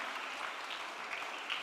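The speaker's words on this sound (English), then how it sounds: "give a big hand of applause for her." Brief burst of dense audience clapping at a cyber safety awareness programme, steady and even throughout with no voice over it.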